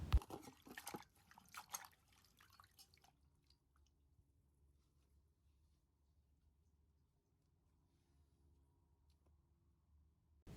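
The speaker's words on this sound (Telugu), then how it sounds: "పాలకూరని వాష్ చేస్తున్నాను" Spinach being washed by hand in water gives a close flurry of drips, splashes and squishy handling for a few seconds, then fades to near silence with only faint low noise.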